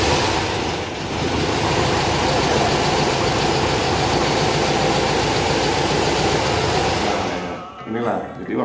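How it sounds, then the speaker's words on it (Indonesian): An old VW Beetle engine idles steadily and fairly loudly for several seconds, a continuous low rumble that fades near the end. "Kalau dihidupin masih ngejreng juga"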